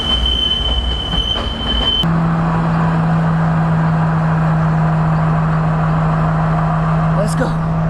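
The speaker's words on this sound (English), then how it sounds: "We're just waiting for the train." A train pulls into the station at Ella, Sri Lanka, loud and close, its wheels squealing in a long sustained tone over heavy rumbling, with people talking nearby.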